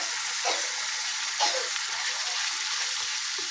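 Spice masala with turmeric and salt frying in a pan for a spicy country-chicken curry makes a constant bright hiss, with a couple of soft stirring scrapes near the start.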